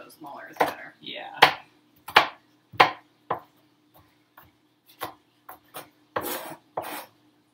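A knife chopping firm peppers on a cutting board, a series of crisp, close cuts in an irregular rhythm, some louder strokes and some lighter taps, with speech in between.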